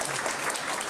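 Steady applause from an audience at a Korean disability sports policy workshop in 2013, dense clapping that fills the whole moment evenly as guests are introduced.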